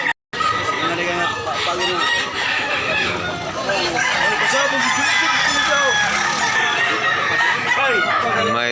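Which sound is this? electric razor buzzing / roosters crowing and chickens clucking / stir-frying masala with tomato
roosters crowing and chickens clucking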